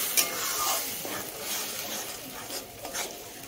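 Tomato puree masala stirred and frying in a pan, a soft steady sizzle with scraping strokes at a low level and no talk over it.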